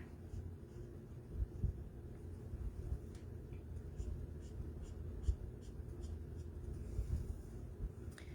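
A marker with a fresh nib colouring on paper, soft close scratchy strokes repeating in quick uneven bursts, quiet and alone.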